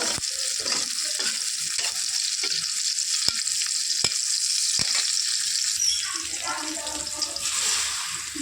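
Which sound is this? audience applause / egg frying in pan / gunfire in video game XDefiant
egg frying in pan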